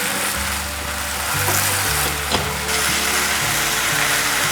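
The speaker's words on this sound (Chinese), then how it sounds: "放入适量的黑白胡椒、玫瑰盐， 快速的拌炒" Amaranth greens stir-fried with black and white pepper and rose salt give a steady, close frying sizzle with a few scraping stirs, and no voices.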